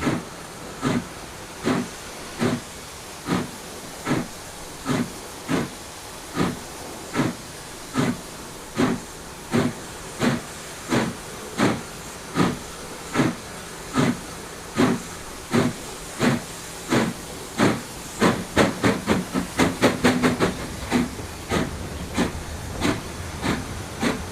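A steam train pulls away from a weighbridge, its exhaust chuffing in regular rhythmic bursts that quicken toward the end over a constant background hiss, fairly close and loud.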